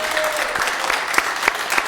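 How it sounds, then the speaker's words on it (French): Studio audience applause welcoming a karaoke singer onto a French TV show, a dense wash of clapping with a few sharper individual claps standing out, short and steady. "je vous demande d'applaudir tout de suite Jean-Claude Poujade"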